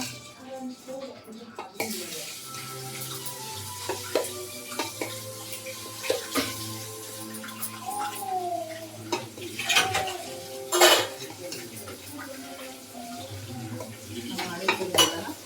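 A spoon clinks and scrapes through mango pickle masala in a pot, with repeated stirring and mixing taps, a low steady hum beneath and faint background voices.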